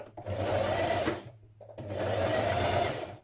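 A sewing machine stitches down a pleat on a dress in two quick close bursts of fast, even whirring, separated by a short pause, with no talking.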